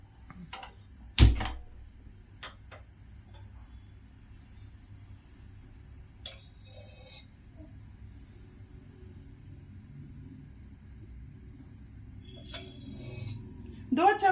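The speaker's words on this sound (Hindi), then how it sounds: "गैस जलाती हूँ।" A gas stove burner sparks alight in a home kitchen as black chickpea curry gets underway: one sharp click-like burst near the start, then a low steady hiss and faint clatter.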